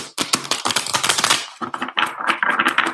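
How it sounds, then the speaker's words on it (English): Rapid crisp riffling of tarot cards being shuffled, a dense burst of flicking snaps followed by a second shorter run of clicks. "So one more quick shuffle."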